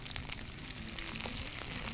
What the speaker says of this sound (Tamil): வெங்காயத்தை வதக்கிறோம்